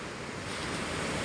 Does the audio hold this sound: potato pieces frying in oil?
no